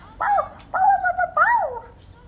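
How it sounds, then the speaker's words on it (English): Dog whimpering and yipping close up, three drawn-out whiny cries in quick succession with a faint voice in the background. "Oh my gosh, it's Willow's dog."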